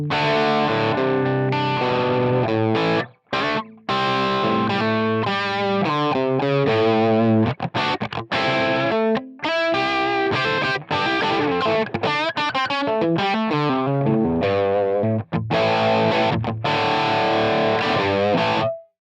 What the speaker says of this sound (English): this is just the sound of the amp block and cab block by itself